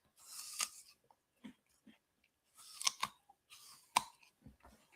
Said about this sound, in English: you'll hear me now because I'm going to crunch